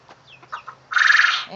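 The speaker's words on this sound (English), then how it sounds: "And there's that little chicken over there in Storm's pond." A small chicken clucks in a short, loud burst near a pond, following softer scattered chirps and peeps.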